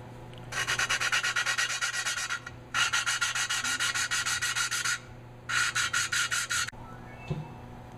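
Engine valves being lapped by hand on an HH120 engine rebuild, a rapid rhythmic rasping of grinding paste in three bursts of quick back-and-forth strokes, close and loud, with brief pauses between them.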